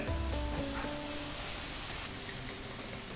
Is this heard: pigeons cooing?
no